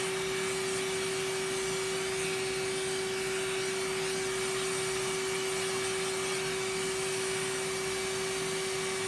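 An Electrolux The Professional vacuum cleaner running steadily, a loud continuous motor whine with a strong steady tone, close and alone without talk.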